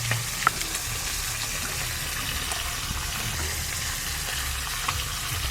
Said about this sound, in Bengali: এই মাছগুলোও সব ভাজা হয়ে গেল।